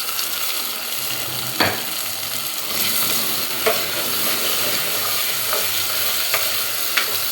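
Tomatoes fry in hot oil in a pan, giving a steady close sizzle broken by occasional sharp clinks and scrapes of a stirring utensil.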